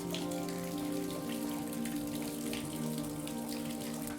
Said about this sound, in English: There's a stream above us, and the water is seeping down to the cave coral.